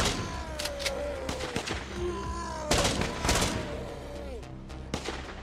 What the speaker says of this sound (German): Die schießen.